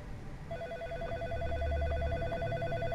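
Telephone ringing from the ground in the video game In Sound Mind, a repeating electronic trill in rapid pulses, moderately loud over a low ambient rumble.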